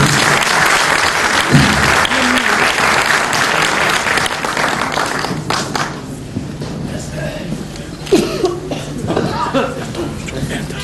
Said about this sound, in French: On l'applaudit encore.